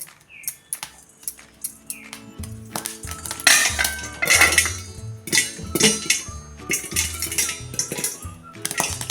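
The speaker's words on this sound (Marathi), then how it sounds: "बघा लाया कशा छान फुटायला लागलेत" Sorghum (jowar) grains popping in a covered pan at home, a busy scatter of sharp clinking pops and ticks that pick up in density and loudness as the batch gets going, with no talk.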